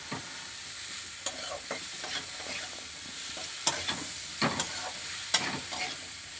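Vegetables with turmeric and salt fry in an open pan for a chorchori: a continuous hiss of sizzling oil with scattered scraping strokes of a spatula, close and fairly steady, with no talking.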